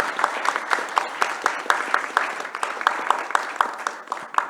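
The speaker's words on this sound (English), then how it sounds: "Let's give one more round of applause to our panelists" Audience applause for the panelists at a Crimea Global panel on international security and development, a steady patter of many hands clapping at moderate level with individual claps standing out.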